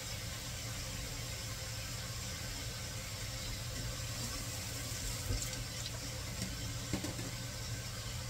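Hot water poured into a cooking pot over tofu for a tofu and egg soup, a steady close wash of liquid with a faint background hum, no talking.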